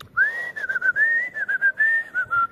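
A small whistle is blown through its hole, giving a bright, clear tone in several sustained blasts broken by short gaps, loud and close with no talking over it.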